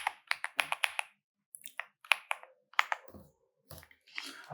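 Code being typed on a computer keyboard in Odoo, with sharp, close clicky keystrokes arriving in quick bursts and brief pauses between runs.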